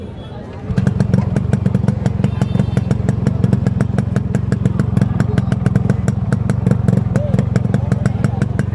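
A motorcycle engine starts up and runs loud and close, its steady rapid pulsing thump continuing without pause for the rest of the recording.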